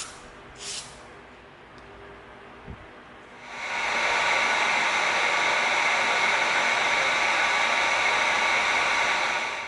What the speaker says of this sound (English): now we're going to come in with our 220 sanding stick and we're going to just push towards the tip just like that